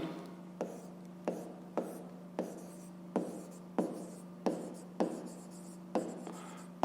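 A pen writing fractions by hand during a fifth-grade math lesson: about ten quiet, evenly spaced scratchy strokes, each a short scrape, close and soft against a low steady hum.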